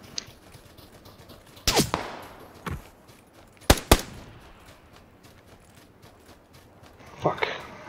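Gunfire in the battle royale game PUBG comes as several sharp, spaced cracks and short bursts, some near and some farther off, while a player talks excitedly over them.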